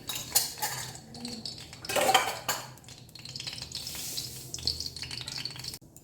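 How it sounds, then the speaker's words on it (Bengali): Utensil clinks and scrapes in a hot kadai while oil goes in for egg curry, with a faint sizzle and a few louder clattering bursts, close by and without talk. "এবারে আমি কড়াইতে তেল দিয়ে দিচ্ছি।"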